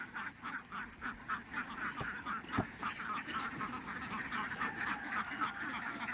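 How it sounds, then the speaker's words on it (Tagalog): A flock of ducks being herded on a duck farm, with many quacks overlapping in a steady, busy chorus at moderate distance and no talking. "Tataboy nila mula doon ng itik papunta dito."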